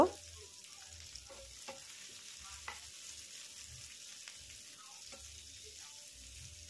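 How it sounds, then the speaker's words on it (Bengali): A large chopped onion fries in oil with cumin: a soft, steady sizzle runs throughout, broken by occasional clicks and light knocks of stirring, with no talking. "পেঁয়াজটা দিয়ে দিলাম। পেঁয়াজটাকে আমি ভেজে নেব।"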